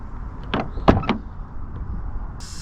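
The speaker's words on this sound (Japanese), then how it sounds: "ドアの開閉音を聞いていただきます" An Abarth 500 car door opens and shuts nearby with a few sharp, solid latch clunks in quick succession, then a short whirring mechanical sound at the end.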